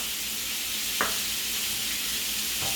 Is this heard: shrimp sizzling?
yes